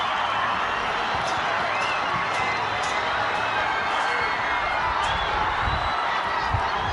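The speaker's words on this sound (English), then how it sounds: "Look at the crowd cheering him off." A stadium crowd at a Bhutan versus Sri Lanka World Cup qualifier football match roars steadily in a dense, continuous wash of cheering and shouting that holds a constant level throughout.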